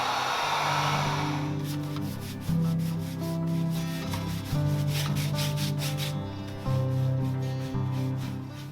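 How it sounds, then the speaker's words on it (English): A heat gun blows steadily on freshly painted furniture to dry the paint, a loud continuous whooshing hum with a few brief dips and restarts as it is switched or moved. "I'm just going in with a heat gun and drying it so I can get a second coat on there."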